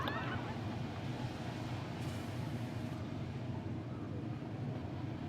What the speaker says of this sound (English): So we do offer a train ride, train tour